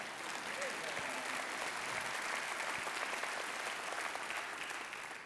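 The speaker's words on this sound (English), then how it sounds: "I'd love for you to clap at that." An audience at a guest speaker's talk claps steadily throughout, a fairly quiet, even spread of many hands in a hall, with faint voices mixed underneath.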